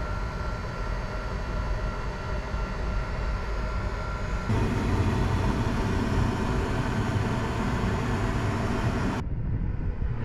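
A Propex diesel heater fitted with a silencing kit in an overland camper trailer runs as a steady, continuous low hum and airy rush, with a slight shift in tone partway through, then quieting near the end.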